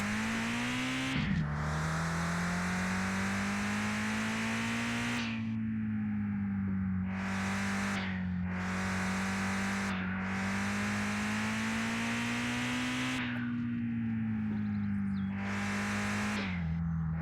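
A car races flat out around an oval track in the game Mon Bazou, its engine holding a loud, steady drone with repeated upshifts and brief dips as gears change, heard alone without talk.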